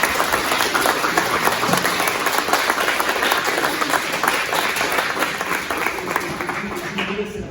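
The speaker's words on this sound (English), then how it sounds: "Let's give her a round of applause." An audience applauds at a vocation talk by a nun, a sustained, fairly loud crowd clapping that holds steady throughout with faint voices mixed in.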